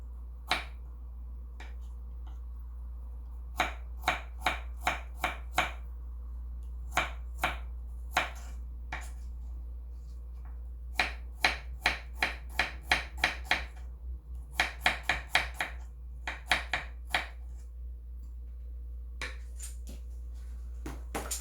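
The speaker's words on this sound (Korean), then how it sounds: "이렇게 얇게 썰어줍니다." Knife slicing omija or fruit thinly on a cutting board for omija syrup, with sharp clicking cuts in uneven bursts, quick runs of rapid strokes separated by pauses, close and clear over a steady low hum.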